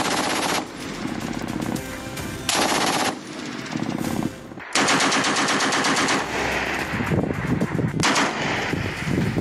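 Machine gun fire at the Line of Control between Pakistan and India, heavy sustained automatic bursts with brief pauses, loud and harsh, with no voices over it.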